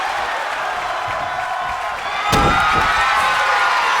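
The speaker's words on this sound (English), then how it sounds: "Listen to this crowd." A wrestling crowd at an Atlanta show roars, the cheering swelling suddenly midway with a sharp burst of noise, loud and continuous over a background of general crowd din.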